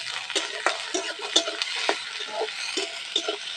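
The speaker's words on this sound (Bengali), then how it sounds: "কতগুলি রসুন গোটা দিয়ে দেবো, আদা কুচি দিয়ে দেবো, একটু ভেজে নেবো" Whole garlic cloves and chopped ginger frying in a pan for a fish paturi spice paste, with a faint, steady sizzle broken by soft stirring scrapes, close and without talk.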